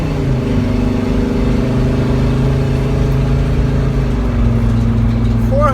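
A loud Mercedes Sprinter van engine with about 421,000 miles and its muffler cut off hums steadily while driving, its pitch holding then dropping slightly as the van shifts, with a voice faintly mixed in.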